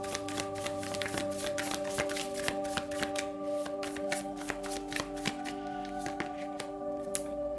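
Tarot cards riffle and slap together in a steady run of crisp, close shuffling taps during a reading, with a constant tonal hum behind and no voice.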